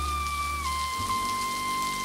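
Steady rain falls in a film scene from Love Jones, a dense, even hiss of drops that stays constant throughout, with a faint tonal hum running underneath.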